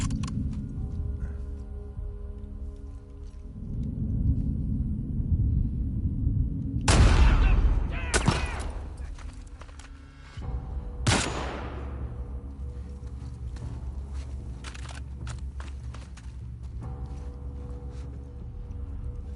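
Three loud, sharp gunshots crack at uneven intervals in The Last of Us Part 2, standing out against a low, rumbling game ambience that continues between and after the shots.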